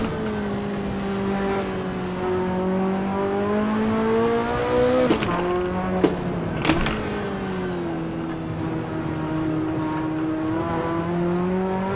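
A Ferrari F40 engine at racing speed on the Nordschleife in Assetto Corsa, a loud, steady, near engine drone whose pitch climbs and dips through gear changes, with a few sharp clicks and bursts partway through.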